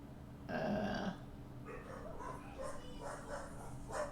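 Dogs barking in The Painscreek Killings video game, a few muffled woofs and yips over a steady low game ambience, moderately distant, with no talking.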